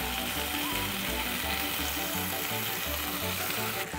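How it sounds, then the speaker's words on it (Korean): Ingredients stir-frying in a hot pan for a shrimp risotto and clam pasta, a dense steady sizzle with rhythmic low scraping and clacking of stirring underneath, close and continuous with no talking. "그 다음에 얘를 볶을 거예요"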